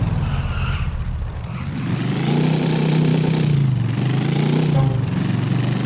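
Motorcycle racing through the docks in GTA The Lost and Damned, its engine droning low then swelling and revving up loudly, holding a strong rising and falling growl up close.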